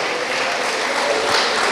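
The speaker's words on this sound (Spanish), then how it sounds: "Un aplauso." Church congregation claps in a steady, dense burst of applause, close and fairly loud, with no talking over it.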